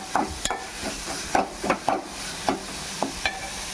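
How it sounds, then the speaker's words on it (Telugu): Ginger garlic paste frying in a pan for a mushroom curry, with a spatula stirring and scraping in irregular close strokes over a low sizzle, no voices. "అల్లం వెల్లుల్లి పేస్ట్ కూడా వేసాం కదా, ఇది కొంచెం పచ్చివాసన పోయేదాకా ఫ్రై చేసుకుందామండి"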